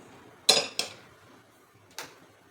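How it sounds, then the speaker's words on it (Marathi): A pan is set down on the stove for dry-roasting sago, two quick metallic clanks close together, then a quieter clank a second later, in an otherwise quiet kitchen. "साबुदाणा भाजण्यासाठी आपल्याला पॅन ठेवायचं आहे"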